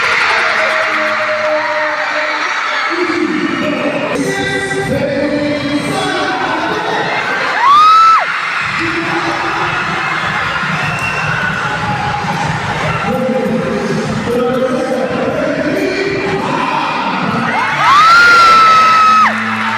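A crowd of students at a school intramurals basketball game cheers and shouts loudly throughout, with whoops, yells and rising whistle-like squeals twice standing out above the din.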